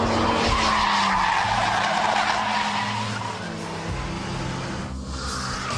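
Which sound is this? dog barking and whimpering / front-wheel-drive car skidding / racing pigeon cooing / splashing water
front-wheel-drive car skidding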